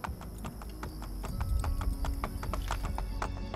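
A horse's hooves clip-clop in a steady, even rhythm in Assassin's Creed Brotherhood, fairly close and growing a little louder midway, with no talking over them.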